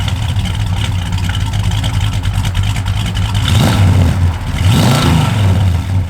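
A 1967 Plymouth Satellite engine revs up twice over a steady idling rumble, loud and close, the pitch rising and falling with each rev.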